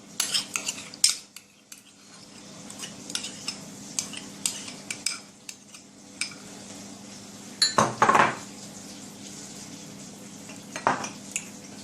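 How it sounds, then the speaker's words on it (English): A spoon clinks and scrapes against a bowl as mayonnaise is scooped in for a coleslaw dressing, with scattered sharp taps and one louder clatter, close and alone without talk. "I'm gonna make the sauce first. So I'm gonna add some mayo."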